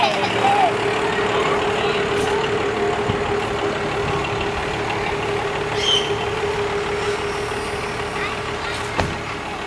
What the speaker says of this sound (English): Good call with the blue tractor.